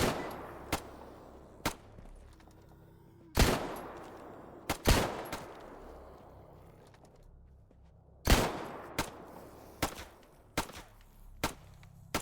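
Gunfire against zombies in the video game S.T.A.L.K.E.R. GAMMA rings out as sharp single shots and clustered bursts with echoing tails, some close and loud, spread irregularly over a quiet background.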